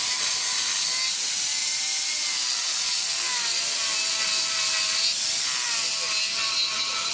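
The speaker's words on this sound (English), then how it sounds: "This guy's working with some power tools." A power tool runs nonstop, its loud, whining motor close by and wavering slightly in pitch over a steady harsh grinding noise.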